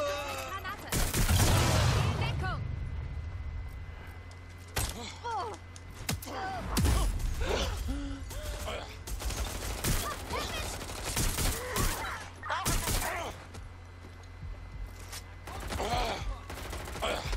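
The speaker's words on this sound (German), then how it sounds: "Sie schießen uns direkt davon." Gunfire from the video game Watch Dogs Legion: bursts of shots crackling through the scene, with dense volleys early and scattered reports later, heard under and between a man's speech.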